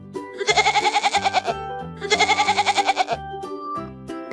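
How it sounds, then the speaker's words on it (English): A goat bleats twice in long, rapidly wavering calls, loud and close, over a soft musical backing. "Goat."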